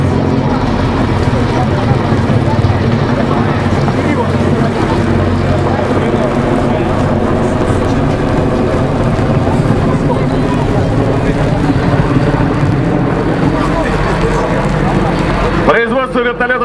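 A Mi-26 heavy helicopter climbs toward the clouds at the MAKS-2011 air show, its rotors and engines producing a loud, steady, thrumming roar throughout, with a commentator talking over it.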